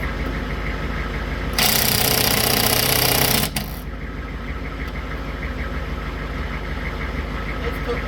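A Robo 24V cordless impact wrench spinning wheel nuts lets out one loud, harsh rattling burst of about two seconds, then stops, over a steady background hum.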